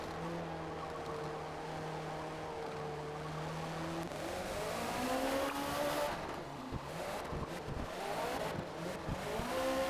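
A race car in Forza Motorsport howls through a fast S-section at high revs, its engine note rising and falling with tire squeal and skidding as the car slides, loud and continuous.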